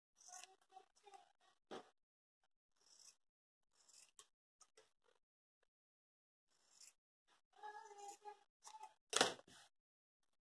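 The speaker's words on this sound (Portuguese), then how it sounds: "Vamos cortar aqui, ó, dando uma margem aqui de onde a gente deu a costura." Scissors cut fabric to make a face mask, giving a series of close, crisp snips in short clusters separated by quiet gaps, with one louder cut near the end.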